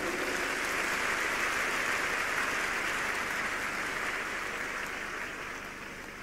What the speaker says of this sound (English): If you are clapping, do it well.